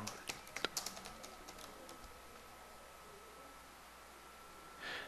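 Text typed on a keyboard at a Linux Debian desktop, a quick run of soft close keystrokes that thins out into faint room noise, followed by a brief rustle.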